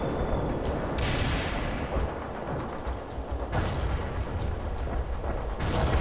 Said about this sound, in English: Artillery strike is in.